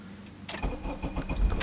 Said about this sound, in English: let's take a look at how this Accord drives